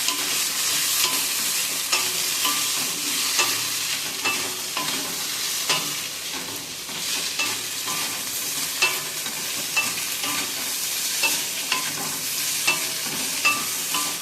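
Turmeric is stirred into vegetables frying for Bengali dudh shukto: a long, steady sizzle close up, dotted with light clicks and scrapes from the stirring spoon.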